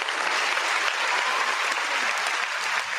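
Steady round of applause from a crowd, dense continuous clapping holding at an even level throughout with no voices standing out.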